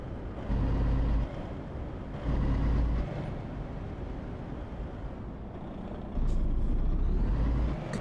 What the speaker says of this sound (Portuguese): Aqui com um caminhão bem comprido outra vez.